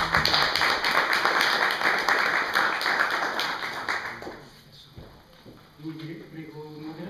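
An audience at a conference on religion as an instrument of peace applauds with brisk, fairly loud clapping that gradually thins and fades out after about four seconds, leaving quieter room sounds and faint voices.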